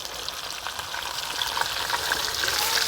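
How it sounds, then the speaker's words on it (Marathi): Tilapia fish frying in hot oil, a steady dense crackling sizzle that grows slightly louder, with soft scraping as the fillet is lifted and flipped in the pan. "अलगद उचलून घ्यायचं आणि पलटी करायचं आहे।"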